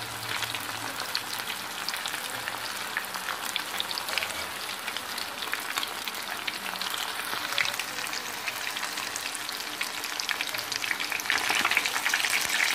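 Chilli chicken frying in a pan over a medium flame, a steady, dense, rain-like sizzle that holds close and even throughout, with faint stirring and no voices.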